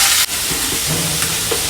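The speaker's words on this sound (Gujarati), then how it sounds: "તો ઘી ગરમ થઈ ગયું છે, આની અંદર આપણે આ કાંદા, ટમેટા, મરચી આ બધું નાખી" Onions, tomatoes and chillies sizzle in hot ghee with a steady, bright hiss that fills the whole moment, close and even, with faint pops over it.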